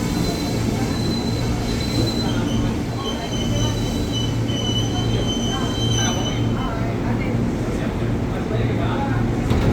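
A KRL commuter train pulls into Duri station, its wheels squealing steadily and loudly over a rumbling rail bed while a platform announcement plays underneath.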